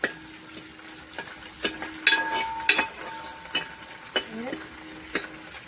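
Curry leaves sizzling as they fry in hot oil for Kumarakom-style fish head curry, a steady crackle broken by several sharp clinks and scrapes of a spoon stirring the pan.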